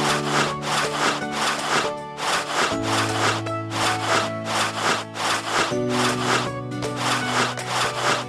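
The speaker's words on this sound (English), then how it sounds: "And now some serious rubbing." Scrubbing and rubbing sounds while cleaning a puppy in a kids' video game, a steady rhythmic rasping stroke repeated many times over a looping cheerful music backing.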